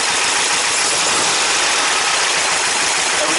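An engine idles steadily during warm-up while dual EMPI 40HPMX carburetors are synced, a loud, constant broadband drone with no pauses.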